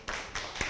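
An audience claps to welcome Sir Christian Edmund Chua at a data science talk, a short burst of hand claps rising in two or three quick waves, fairly close and moderately loud.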